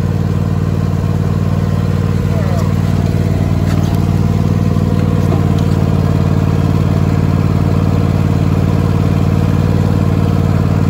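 A Cub Cadet XT2 LX42 lawn tractor engine runs at a steady idle, a loud, close, constant drone with a low rumble that holds unchanged throughout with no talk.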